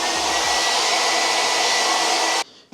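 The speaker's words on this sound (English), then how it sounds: "they do have a hairdryer here" A hotel bathroom hair dryer at a Holiday Inn in Times Square, New York, blows loudly and steadily at close range, then cuts off abruptly near the end.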